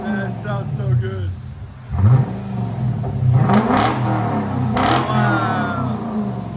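A 2012 Lexus LS 460 with a 4.6L V8, Dynomax Bullet mufflers and a muffler delete revs hard in several loud, close bursts, each rising and falling in pitch, while people talk around it.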